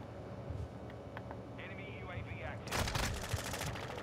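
Rapid gunfire in Call of Duty: Modern Warfare II multiplayer, a dense burst of automatic shots erupting loud and close over background game noise and voices.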